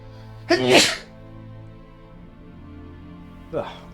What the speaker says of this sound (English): Okay, that was a good sneeze.